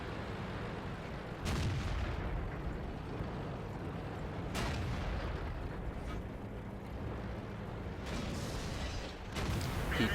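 A Churchill 7 tank fires HE shells in the World of Tanks game, several heavy booming shots spaced a few seconds apart over a constant rumbling battle background, faint and distant-sounding.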